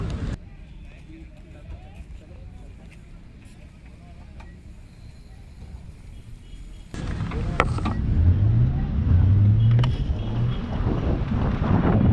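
Kabira Electric KM4000 electric motorcycle starting up and pulling away, a steady low hum and rushing wind noise that grows louder as it gets moving, with a voice talking over it.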